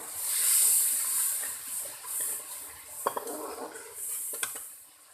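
Water poured into a pan of sizzling ground spices, coriander powder and garam masala, for daal mash; a steady hiss and steam fill the clip, with a few sharp clinks of a utensil against the pan midway.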